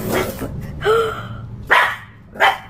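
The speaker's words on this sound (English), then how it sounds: "Her dog began barking at the chair, seemingly just as scared as she was." A dog barks in short bursts, a whiny yelp then two sharp barks spaced about a second apart, close and loud, with no talk over them.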